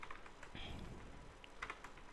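Quiet, rapid keystrokes tap on a computer keyboard as an email address is typed into a mail client, a soft irregular clatter with brief pauses.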